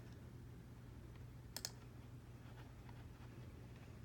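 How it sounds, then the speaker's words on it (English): Two quick computer mouse clicks sound close together, faint and crisp over a quiet electrical hum, followed by a few softer ticks while wiring a circuit in Multisim. "And we just click on the ends."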